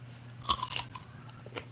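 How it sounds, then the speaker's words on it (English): A raw carrot bitten and chewed close to the microphone, one sharp crunch followed by a few softer crunching chews over a faint low hum. "Crunch, baby, crunch."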